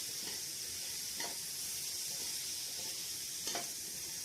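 Onions, ginger garlic paste and roasted coconut for beef roast frying in a pan, a soft continuous sizzle with a few faint stirring scrapes, no talking.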